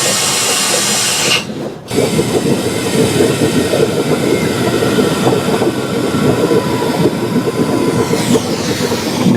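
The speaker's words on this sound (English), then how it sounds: "Now I'm hearing air coming out of the drain cock." Air hisses out of the radiator drain cock on a junkyard 1975 Cadillac Fleetwood, a loud continuous broadband rush close by with a brief dropout early on, then steady to the end.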